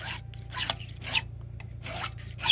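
A chainsaw chain is hand filed in short, rhythmic rasping strokes, about seven of them, close and fairly quiet, with brief pauses between strokes over a low steady hum.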